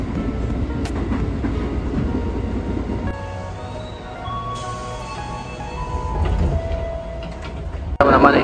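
Interior of a commuter train travelling toward Manggarai station, with a steady rumble and rolling rail noise, a few faint tonal squeals and clicks, and a sharper jolt near the end.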